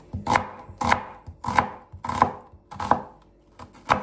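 Six sharp knife strikes on a cutting board cutting onion, evenly spaced about every half second, close and crisp with no voices.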